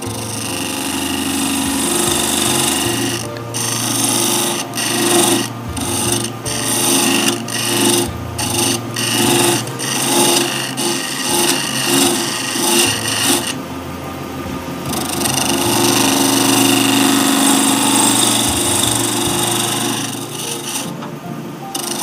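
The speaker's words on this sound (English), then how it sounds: "So you can see even a parting tool struggling," A parting tool cuts into a shaving-brush handle of chameleon-holographic material spinning on a wood lathe, giving a loud, continuous rasping scrape over a steady motor hum, with brief stuttering catches and a harsher stretch near the end.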